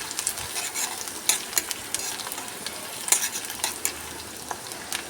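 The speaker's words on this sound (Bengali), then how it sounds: "এর মধ্যে আমি দিয়ে দিলাম 3টে কাঁচা লঙ্কা কুচি।" Onion and chopped green chillies frying in a pan crackle and sizzle steadily at moderate volume, broken by sharp pops and occasional stirring scrapes.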